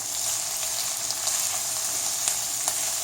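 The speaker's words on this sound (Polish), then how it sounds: "I całość podsmażamy około 2 minut." Potato bake ingredients of sausage, bacon and vegetables seasoned with marjoram sizzle steadily in a frying pan, a close, even hiss with a few faint pops and stirring clicks and no voices.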